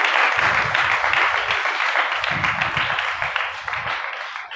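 Applause from a church audience at a sermon, a dense wash of many hands clapping loudly, with uneven bursts that ease slightly toward the end.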